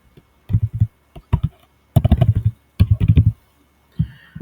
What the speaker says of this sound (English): I will just type out the same name